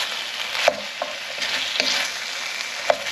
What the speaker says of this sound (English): I'm going to pop in the peppers and the mushrooms now